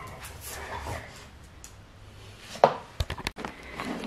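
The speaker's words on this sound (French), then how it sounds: "j'ai un chien qui veut sortir" An excited dog at home wanting to go outside gives a few short, sharp barks and yips near the end, close and loud, after a stretch of quieter shuffling and room noise.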